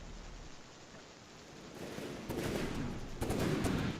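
Upside-down tanks in a video game fire in quiet, distant bursts of gunfire, with two louder volleys near the end over a soft, rain-like background hiss.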